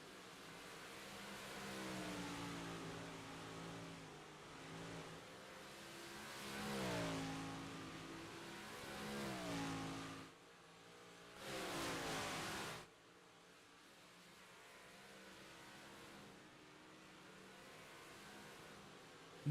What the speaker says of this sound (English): Michael Vitale still hunting the 2 car here, trying to get that final podium position as the 213 closes in